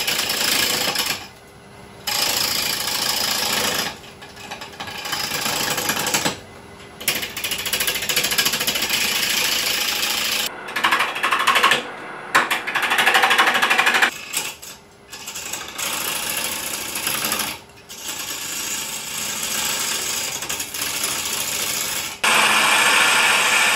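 Wood gouge cutting a bowl on a lathe, pulled down left-handed across the spinning blank: a loud, continuous scraping roar broken by brief pauses as the tool lifts off, then resumes.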